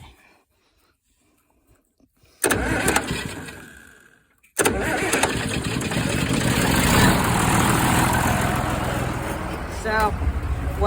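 After a quiet pause and a brief false start, a tractor engine cranks and fires up near the microphone, then settles into a loud, rough, steady running rumble.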